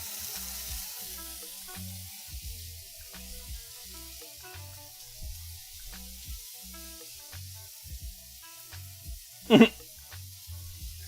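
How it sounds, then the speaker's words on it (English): Sauce bubbling and sizzling in a pan over a maximum flame, a steady soft hiss with a louder burst near the end, heard close alongside a low background hum. "Waiting for this just to get a little bit further, just a little bit more of a boil here"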